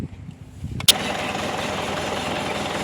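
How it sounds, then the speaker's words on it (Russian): A Ford Focus starts up after a fuel filter replacement: a brief cranking, a sharp catch, then a steady, fairly loud engine idle that continues to the end. "пытаемся завести авто"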